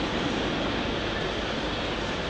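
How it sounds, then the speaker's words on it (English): A small train passing by, a loud, constant rumbling roar that fills the whole moment without letting up, drowning out everything else. "Goddamn train can't hear a fucking thing."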